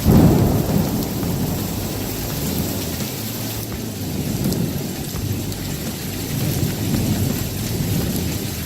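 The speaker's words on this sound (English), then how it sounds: "but it's all raining out." Steady heavy rain patters and hisses throughout, with low rumbling thunder rolling in the background; no voices.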